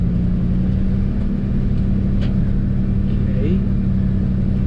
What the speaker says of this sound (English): Clutch is real chattery.